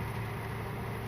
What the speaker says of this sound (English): Other than my engine idling real high